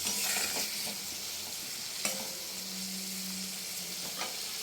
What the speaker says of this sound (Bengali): মশলাটা দিয়ে ভালো করে আবার মশলাটাকে আমি নাড়াচাড়া করব।